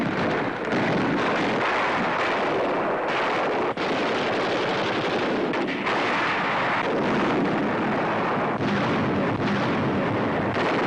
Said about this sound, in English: artillery pounds a ridge above Point Nafutan.